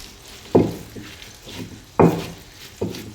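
Green chilli thecha is pounded with a pestle in a mortar, giving three or four dull, separate thuds close by with some scraping between them.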